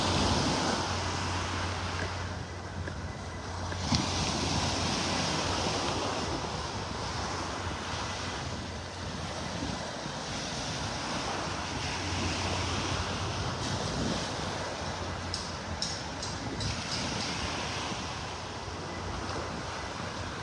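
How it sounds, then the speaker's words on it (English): Gulf of Mexico surf rolls steadily onto Vanderbilt Beach in Naples, Florida, a continuous wash of breaking waves mixed with gusty wind buffeting the microphone. "Gulf of Mexico"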